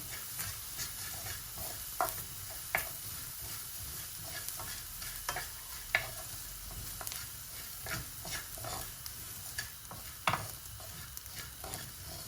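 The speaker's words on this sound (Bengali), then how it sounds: "আর এদিকে আমার শুটকি একটু লাড়াচাড়া করি" A spatula stirs dried fish (shutki) in a hot frying pan for a Sylheti-style vorta, with a continuous sizzle and hiss broken by repeated scraping clicks and knocks at an uneven rhythm.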